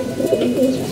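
A single short pigeon coo, close and fairly loud, comes from a loft flock at feeding time as the sky darkens before rain.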